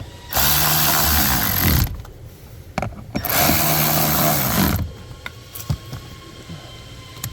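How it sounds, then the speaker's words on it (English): A power driver whirs in two long bursts, running screws back in tight while reinstalling a blower motor on a 2015 Toyota Tacoma. Between and after the bursts come scattered clicks and ticks from handling the tool and parts. "you can go ahead and just run those screws back in till they're tight"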